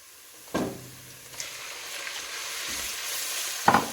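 Minced meat frying with onions in a pan, a soft steady sizzle with a few sharp spatula clacks and stirring scrapes at the start and end, close and moderately loud.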